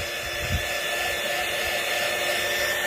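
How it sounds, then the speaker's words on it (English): A hair dryer blows steadily and continuously at close range, drying a handmade vintage birthday card during a card-making session, with no talking. "So speak amongst yourselves while I just, you know, dry this off."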